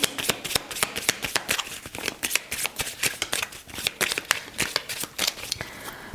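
A deck of Spark of Love oracle cards is shuffled close up, a rapid crisp run of riffling card snaps and slides continuing without pause.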